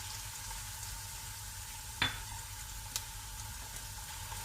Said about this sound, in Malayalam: വെളുത്തുള്ളി ഇത്രയും നമ്മൾ ഫ്രൈ ചെയ്യാൻ ഇട്ടിരിക്കുകയാണ്.